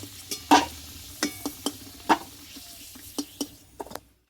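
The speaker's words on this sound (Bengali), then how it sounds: "আলুটা কিন্তু ভালোভাবে কষিয়ে নিয়েছি এবার তেল থেকে তুলে নেব" Potatoes fry in mustard oil in a pan over a low hiss, and a utensil scrapes and clinks sharply about a dozen times at an uneven pace as they are lifted out, before it goes quiet.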